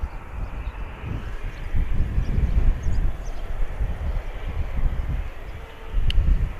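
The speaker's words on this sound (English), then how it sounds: "here is that A320. Yeah, flaps well and truly retracted." An Airbus A320 airliner at Bristol Airport with flaps retracted gives off a broad, distant roar. The low rumble holds steady for several seconds, with wind buffeting the microphone.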